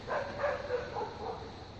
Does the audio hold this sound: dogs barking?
yes